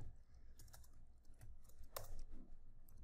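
Keys clatter on a computer keyboard as HTML code is typed, an irregular run of close clicks with a few sharper taps and a low room hum underneath, no voice.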